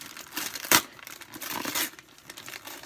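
Doll packaging is ripped open by hand, with close, crinkly tearing and rustling and one sharp loud rip near the start, then softer crumpling and scraping of the plastic and cardboard.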